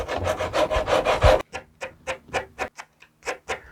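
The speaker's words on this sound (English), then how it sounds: "when you sand it, it does smooth out the edges quite a bit" Hand sanding the rough edge of a wooden CLC Passagemaker dinghy part, close rhythmic rasping strokes, about a dozen back-and-forth passes, the first burst quick and dense, then slower, separated strokes.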